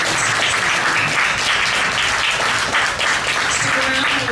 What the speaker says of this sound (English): One more round of applause to Brece.